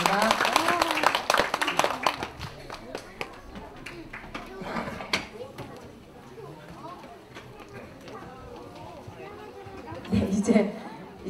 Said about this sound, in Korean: 모두에게 큰 축복 박수 주시고